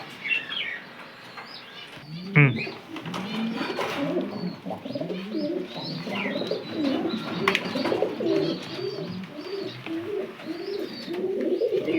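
Pigeons of old bloodlines cooing in a loft, several birds giving overlapping low rolling coos and soft chirps close by, with a brief flutter or knock early on.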